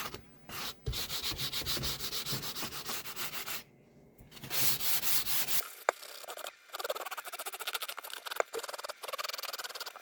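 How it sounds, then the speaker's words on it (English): Frets are sanded by hand with fine grit paper during a guitar refret, giving close, rhythmic rasping strokes that stop briefly, then return as lighter, sparser rubbing with a few sharp ticks. "And we'll give them a final sanding."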